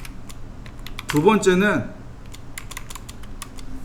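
Keys clatter on a computer keyboard in scattered light taps, close and fairly faint, while a person speaks briefly in the middle.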